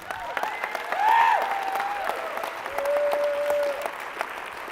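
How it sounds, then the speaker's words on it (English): An audience at a keynote event breaks into applause, a crowd's dense clapping swelling and easing with a few whistles and cheers on top. "Somebody clapped."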